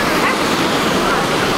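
A dense, steady roar of a jungle waterfall in Laos fills the clip, loud and close, with no pauses or talking.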